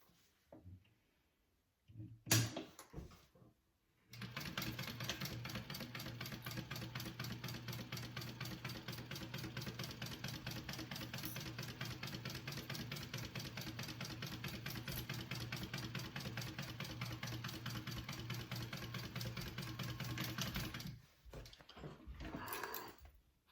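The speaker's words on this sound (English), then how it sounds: "So we're gonna sew along this curved edge." A home sewing machine runs steadily for about seventeen seconds, stitching a curved edge on a fabric circle bag, its motor hum loud and even with fast mechanical ticking, briefly stopping and restarting near the end.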